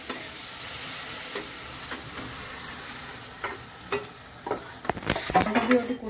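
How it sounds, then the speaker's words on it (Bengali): Dal tipped into a pan of sizzling spices for Bengali dhaba-style egg tadka, then stirred: soft scraping and scattered clicks over a low fry, rising at the end into louder crackling sizzle bursts. "ভাজা ভাজা হয়ে গেছে, দিয়ে দেবো ডালটা"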